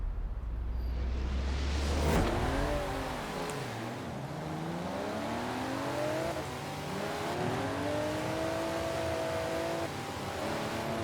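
Drag-built car in Forza Horizon 4 launching on a beach with its tires spinning, the engine revving hard through rising and falling pitch sweeps and a loud, continuous roar over scrabbling wheelspin for the whole stretch.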